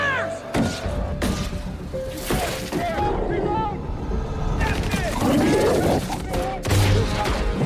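Police open fire on Venom in a film scene, with bursts of gunshots and booming impacts crackling over a dense action soundtrack. Voices and shouting run through the noise, and the shots come in rapid clusters.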